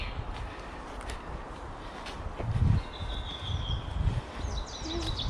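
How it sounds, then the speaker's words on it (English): Birds chirp and sing outdoors in nature, light calls scattered over a steady rustling background with occasional low thumps. "it's not something easy to listen to birds"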